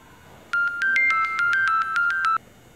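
A phone ringtone plays a rapid, bright electronic melody of repeated beeping tones for about two seconds, loud and clear with no talk.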